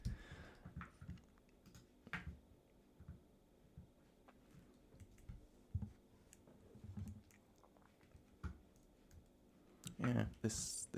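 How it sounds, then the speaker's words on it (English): Computer keyboard typed right beside the microphone, giving irregular close, crisp clicks and clacks in short bursts, with a louder cluster near the end. "my mic is in the way of the keyboard"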